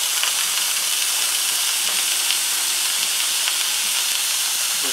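Beef and pork browning in a pot for chili give a steady, loud sizzle and hiss that runs unbroken throughout, with occasional faint stirring clicks and no talking.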